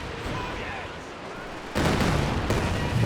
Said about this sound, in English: Katyusha coming in for a close range set of rockets onto these grenadiers.